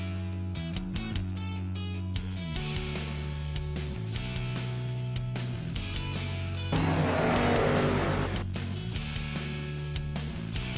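Racing trucks in a racing video game crash and spin, a steady roar of engines running throughout, then a louder burst of tire squeal and skidding partway through before the engine drone settles again.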